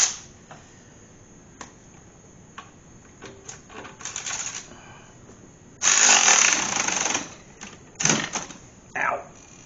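Bursts of power-tool whirring tighten a bolt on a big-block Corvette engine bracket, with a long loud run in the middle and several shorter pulses, under intermittent nearby talk.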